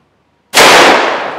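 A single loud, close gunshot from a 10mm pistol firing 45 Super hardcast lead rounds, with a sharp crack after a moment of silence and a short decaying tail.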